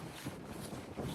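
Wind buffeting a microphone outdoors, a steady low rumble with irregular gusty thumps throughout, no voices.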